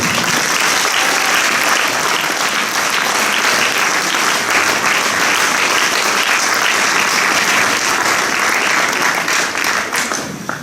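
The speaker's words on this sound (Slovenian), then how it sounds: "tako da en aplavz še za njih" Dense, sustained applause from a concert audience at a charity concert in a primary school, loud and steady for the full length before starting to thin right at the end.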